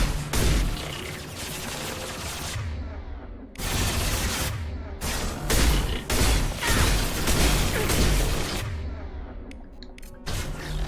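Gunfire in Mass Effect Legendary Edition arrives as dense, loud bursts of shots and impacts that repeat through the stretch, with only brief gaps between salvos.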